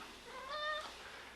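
A pet cat gives a single short, quiet meow that rises and falls, heard alone against a soft room hum.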